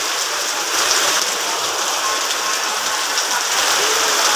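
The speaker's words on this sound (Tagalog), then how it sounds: "sobrang lakas ng ulan" Heavy typhoon rain pours down steadily, a dense, loud hiss of drops drumming on surfaces throughout, with no voices.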